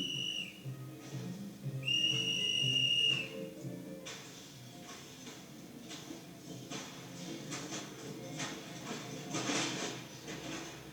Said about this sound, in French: le coup de sifflet du chef monteur donne le signal